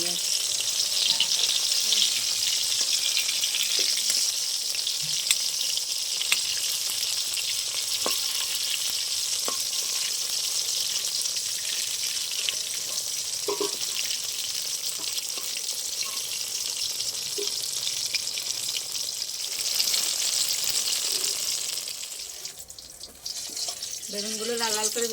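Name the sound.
eggplant slices frying in oil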